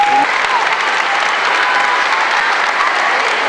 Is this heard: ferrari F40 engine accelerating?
no